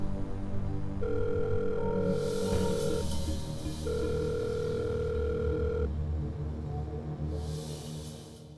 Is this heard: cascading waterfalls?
no